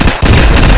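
Rapid gunfire in a Roblox zombie survival game, a burst of loud, close shots packed into under a second, heard alone.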